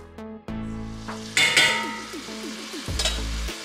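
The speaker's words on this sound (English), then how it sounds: "So we're just gonna cook that broccoli a bit" Chopped broccoli, about four cups with stems, stirred and cooked in a pot for low-carb broccoli cheese soup, giving scraping stirs and a soft sizzle with a few clinks, close and fairly quiet, no talking.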